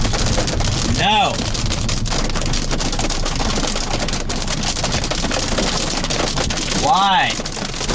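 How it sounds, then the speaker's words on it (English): Hail pelting a Ford Focus ST, a loud, dense, constant patter of small hailstones with rain drumming on the car body, broken by a couple of passing sweeps of other sound. "I hope this isn't denting my car, but it is hailing."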